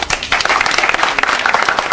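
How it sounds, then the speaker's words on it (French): A crowd at a political youth rally in Man claps loudly, a close, dense burst of many hands with rapid uneven slaps that stays strong for the whole moment, without talk. "on applaudit"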